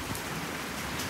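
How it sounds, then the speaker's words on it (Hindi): Rain falling outdoors: a dense, steady hiss of drops, continuous and fairly loud, with no voices. "अभी बारिश इधर से तो आसमान साफ साफ हो रहा है लेकिन इस साइड से काफ़ी है"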